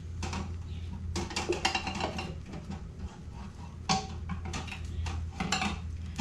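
Glass jars clink and knock as they are set down into a digital pressure canner's metal pot of boiling water, a series of sharp rattles and clunks at close range.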